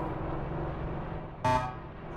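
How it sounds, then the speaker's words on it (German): Truck horn in the video game Star Trucker gives one short, loud honk with a bright harmonic tone, standing out over a steady engine and road rumble. "Muss schon immer hupen hier."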